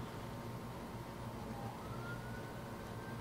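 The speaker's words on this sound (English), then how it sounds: "Sorry if you can hear that siren." A faint siren wails in the distance, its tone rising slowly over a steady background hum of traffic.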